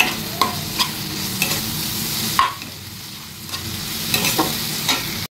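Spices fry in a pan with a continuous sizzle, punctuated by repeated sharp scrapes and knocks of a spoon stirring against the pan.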